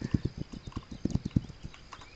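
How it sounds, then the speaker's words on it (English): Horse hooves clip-clop in a steady, close run of hoofbeats in the PC game White Fang Resistance, with a faint whinny-like sound and light background ambience. "You are a smart horse."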